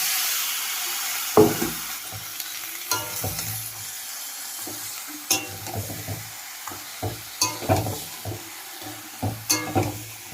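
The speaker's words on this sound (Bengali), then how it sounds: "এবার আমি ধুয়ে রাখা যে খাসির মাংসগুলো সব ঢেলে দিলাম" Washed goat meat tipped into a hot karahi and stirred, sizzling loudly with a burst at the drop, then repeated scraping stirs and crackling frying throughout.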